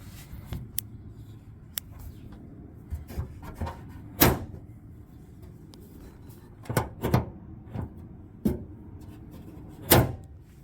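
A 2022 Toyota Tacoma tailgate is worked open and shut several times, giving sharp, close knocks and latch clunks at irregular intervals with quiet pauses between them and no talking.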